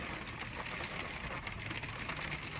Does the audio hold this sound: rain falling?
yes